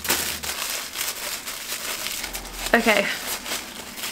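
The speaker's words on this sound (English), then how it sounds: "there's quite a lot of tissue paper." Tissue paper from a Charlotte Tilbury beauty advent calendar crinkling in a series of soft, close rustles, with one brief word spoken partway through.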